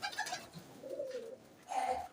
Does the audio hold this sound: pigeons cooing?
yes